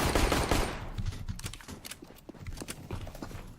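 Pistol gunfire in the game CS:GO: a quick burst of loud, close shots at the start, then scattered lighter clicks and impacts that fade toward the end.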